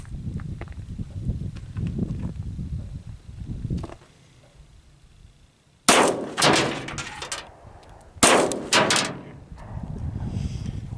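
A Springfield XD-9 MOD 2 4-inch pistol fires and cycles single rounds, two sharp loud bangs a few seconds apart, each with a ringing tail, after a stretch of low handling noise and quiet.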